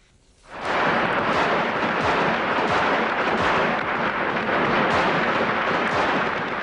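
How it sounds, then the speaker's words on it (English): Gunfire echoes through the streets of Bucharest, Romania, during the 1989 revolution, a dense rumble of overlapping shots and blasts rolling on steadily at a distance with no voices. "Gunfire erupted again in Romania following Christmas Day celebrations."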